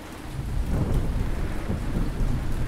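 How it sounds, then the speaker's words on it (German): Steady rain and low rolling thunder in the village-building game Ancient Cities, a continuous loud wash of downpour with deep rumbles swelling underneath, no voices. "Es regnet mal wieder."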